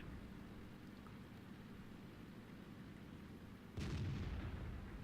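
One booming tank cannon shot from an M41 Walker Bulldog light tank in World of Tanks, a sudden loud blast with a rumbling tail after several seconds of quiet, low background noise.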